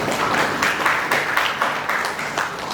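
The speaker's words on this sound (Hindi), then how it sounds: "तालियां हो जाए फुआ के लिए" A small group applauds for Fua at a first birthday party, steady close clapping with a loosely regular rhythm lasting a few seconds, moderately loud and without talk.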